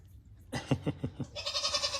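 A single goat gives a few short rhythmic pulses, then a sustained, close, nasal bleat. The background is otherwise quiet.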